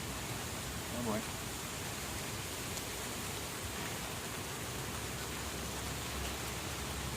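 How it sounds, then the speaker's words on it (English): Rain falling as a steady, even hiss through a bee-inspection outdoors, soft and continuous across the whole stretch, with a faint brief voice near the start. "Starting to rain again?"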